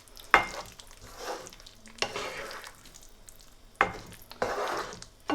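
A spoon folds cream into a Mughlai chicken curry in a pan, with four scraping stirring strokes at uneven intervals over a quiet, steady sizzle, close and moderately loud.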